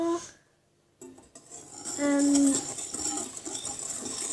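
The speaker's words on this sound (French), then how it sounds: "on mélange le tout au fouet" A whisk clinks and scrapes against a bowl while mixing heart-shaped cookie dough ingredients with vanilla sugar, in light metallic taps after a short pause, close and fairly quiet, with faint talk nearby.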